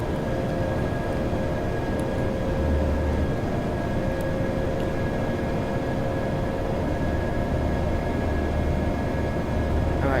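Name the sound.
Airbus A320 aircraft in flight, Flight Simulator X video game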